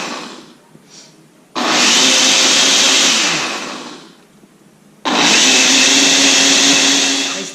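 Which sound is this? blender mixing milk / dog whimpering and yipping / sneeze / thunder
blender mixing milk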